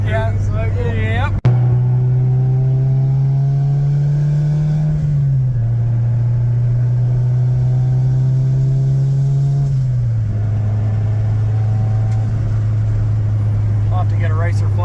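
A budget turbocharged Honda Integra holds a loud, close, steady engine drone, its pitch climbing and then dropping twice as it shifts and pulls away.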